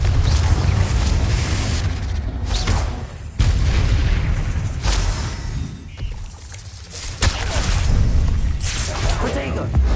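Repeated booming Confringo blasting-curse explosions from Hogwarts Legacy, heavy low rumbles with crackling debris, arriving in several loud bursts across a busy combat mix.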